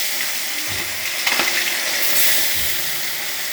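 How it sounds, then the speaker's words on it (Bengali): Bele fish frying in hot oil in a home kitchen, a steady bright sizzle and hiss with a brief louder crackle midway, close and continuous with no talking. "তেলটা গরম হয়ে গেছে এবার আমি মাছগুলো এক এক করে কেটে দেবো"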